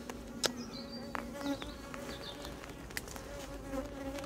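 Bees buzz steadily around an open hive during a queen search and honey super inspection, a close, continuous drone with individual insects whirring past and faint clicks, no one speaking.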